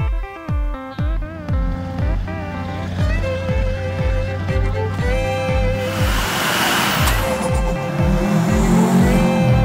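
A NASCAR-style go-kart powered by an LB7 engine roars loudly and steadily through a smoky burnout, with sharp repeated revs early on, then a sustained rush of noise.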